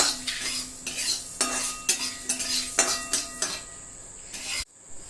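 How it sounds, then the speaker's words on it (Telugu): Coriander seeds roasting in a pan are stirred with a metal spoon, giving rhythmic scraping strokes and light clinks against the pan over a faint sizzle, close and fairly loud. "ధనియాలు కొంచెం వేయించాలి."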